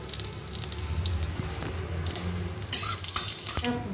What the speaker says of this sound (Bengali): সামান্য আমি তেল দিয়ে নিয়েছি এবার দুটো শুকনো লঙ্কা আর পাঁচ ফোড়ন